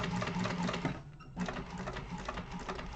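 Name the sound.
sewing machine sewing fabric for a sling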